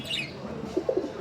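Pigeons gather at a water drinker; a few soft coos and squawks sound close together near the end, faint over a light background hiss.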